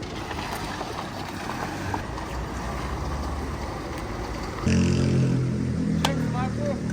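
A Chevrolet Trax car engine warming up, its low steady hum rising and becoming clearly louder partway through, amid background mechanical clatter and voices.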